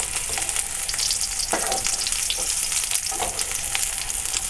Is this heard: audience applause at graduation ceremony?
no